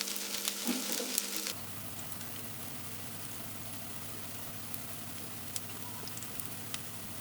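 Turkish potato kofta fry in hot oil in a pan, a steady dense crackling sizzle with faint pops, preceded by a short louder clatter.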